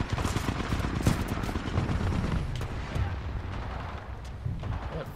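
Dense gunfire and heavy blasts in Titanfall 2 online multiplayer, an Attrition match at Forwardbase Kodai, loud rapid bursts and booms packed together over a few seconds with little pause.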